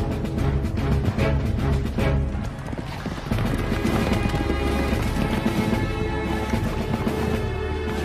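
Cavalry horses gallop in a massed charge, hooves pounding in a loud, continuous thunder of clip-clops with rumbling booms beneath, all close and driving throughout.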